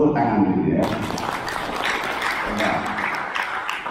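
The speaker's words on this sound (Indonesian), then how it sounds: "Tepuk tangan dulu ya." Scout seminar audience gives applause, a brief burst of clapping that rises after a short voice and continues in a moderate, busy wash.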